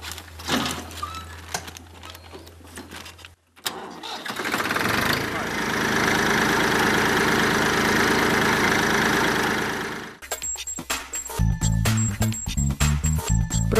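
A farm tractor engine starts and settles into a steady idle, loud and close for several seconds, with people talking before it and more voices with other sounds after it cuts off.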